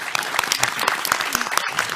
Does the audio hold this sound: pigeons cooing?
no